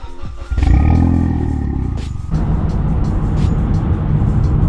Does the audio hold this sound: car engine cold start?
yes